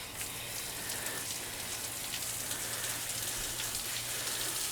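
Water soaks an outdoor IP65 waterproof 15W rotating LED gobo projector, its lens drenched in a steady, dense rain-like spray. The hiss runs unbroken throughout, close and even, with a low hum underneath and no voices.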